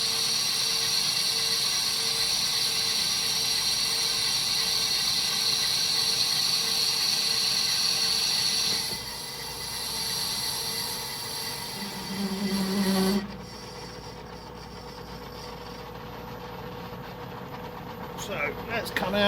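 A metal lathe turns a workpiece with an ISCAR carbide insert, giving a steady mechanical whine and hum that drops and changes pitch as the speed shifts, while a person talks over it.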